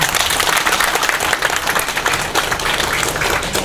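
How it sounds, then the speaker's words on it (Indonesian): Crowd applause fills the air at the inauguration of a mosque tower and ablution facilities at Masjid Al Ikhlas, a dense, steady clapping that stays loud and continuous throughout. "Tepuk tangan heula."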